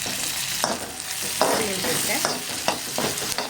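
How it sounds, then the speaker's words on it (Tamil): Onions sauté in a pan with a steady sizzle, broken by several sharp scraping stirs of a spoon or spatula against the pan, close and moderately loud with no talking. "அப்போ கொஞ்சம் சீக்கிரமாக இந்த வெங்காயம் நல்லா வதங்கிடும்."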